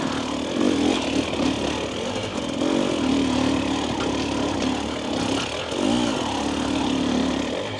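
A 2025 Husqvarna TE300 two-stroke dirt bike with throttle body injection, ridden over bumpy ground, its engine droning steadily with small surges under strong wind noise.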